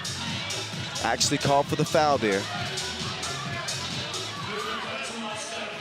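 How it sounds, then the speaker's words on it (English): At a FIBA 3x3 World Cup basketball game, a loud crowd roars and chatters continuously under a commentator's voice, with whistle-like shrieks and bursts of cheering standing out. "This crowd is loud."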